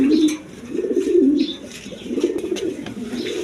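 An Indian kaldom pigeon, a male, coos close by in repeated low rolling phrases with brief pauses between them, with faint chirps from other birds in the background.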